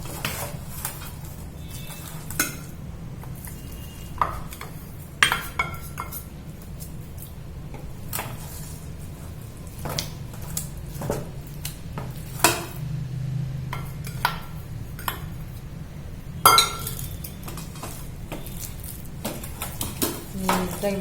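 A spoon stirs grated thurumu pachadi pickle with its oil seasoning in a bowl, repeated soft scrapes and occasional metallic clinks over a quiet room hum, close, with a few brief sharper knocks.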